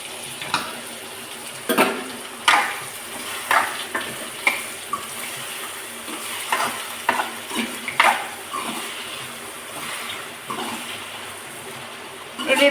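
Onion and tomato fry with turmeric in a pan, a soft continuous sizzle with irregular stirring clinks and scrapes close up.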